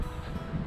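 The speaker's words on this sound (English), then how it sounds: "because it's bloody windy here" A brief rush of wind buffets the microphone with low, rumbling gusts.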